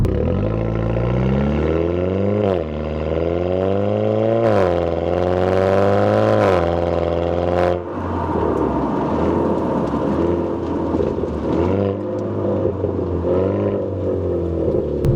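A 2018 Hyundai Elantra Sport 1.6T engine with a DCT gearbox revs up and drops repeatedly as gears shift quickly, the exhaust note rising and falling in a loud, steady drone from inside the vehicle.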